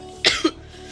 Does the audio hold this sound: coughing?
yes